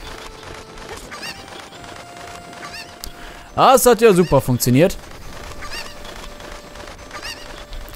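A cucco squawks in a burst of rapid, honking clucks in The Legend of Zelda: Ocarina of Time, loud and brief in the middle of quiet game ambience, with someone talking around it.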